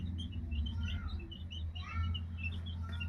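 Small village chicks chirp and cheep in quick scattered bursts while being fed broken rice, steady and close against a constant low hum, with no talking.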